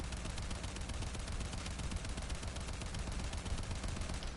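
Rapid, sustained gunfire from a semi-automatic weapon in Warframe, a dense continuous rattle of shots with no pauses, loud and close, with no talking.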